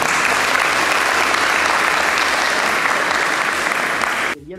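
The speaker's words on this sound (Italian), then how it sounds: "applauso" An indoor audience claps in a dense, steady burst of applause that carries on loudly and then cuts off abruptly near the end.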